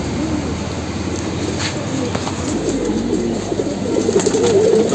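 Army pigeon, the young of a male bird, cooing softly in a steady low murmur under a continuous background hum, with a few faint bursts near the end.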